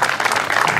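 A crowd applauds steadily at the podium ceremony of the first slalom of Morano, a motorsport hill event in the Pollino area, with dense continuous clapping filling the brief moment.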